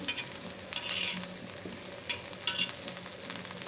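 Home cooking for a Bangladeshi dal buna and chepa shutki meal: a spoon stirs and scrapes food frying in a pan, giving close, soft sizzling with irregular bursts of scraping. No one speaks.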